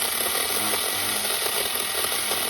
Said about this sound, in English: Those little mini chainsaws work great.